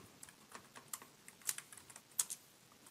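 Password being typed on a computer keyboard, quiet irregular key clicks with a few sharper louder taps, close up with no talking.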